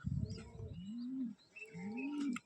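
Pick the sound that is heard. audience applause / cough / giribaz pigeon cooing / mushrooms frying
giribaz pigeon cooing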